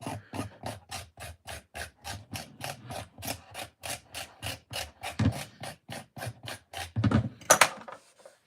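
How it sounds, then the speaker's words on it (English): Worn-looking prop material is scraped and roughed up with a steady back-and-forth rasping, about two dozen even strokes in a regular rhythm, close and loud, ending in a few harsher, scuffier strokes. "give it a really good scrape"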